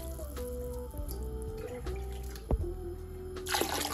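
Water poured into a pot for about two litres, a continuous splashing stream with shifting pitch and a brief knock, close and fairly quiet, no talk.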